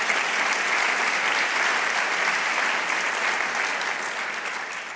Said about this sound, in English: Yes, you can clap for her